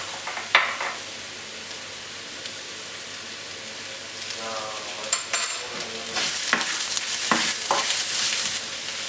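Beef with mushrooms and onions sautés in a pan, a soft sizzle under scattered sharp clinks and scrapes of stirring, growing busier and louder toward the end.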